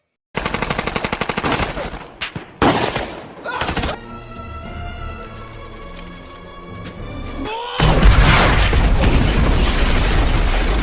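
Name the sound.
gunfire and rockets in a film battle scene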